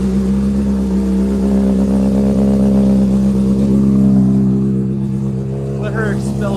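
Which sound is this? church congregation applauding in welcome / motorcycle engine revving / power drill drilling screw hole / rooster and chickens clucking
motorcycle engine revving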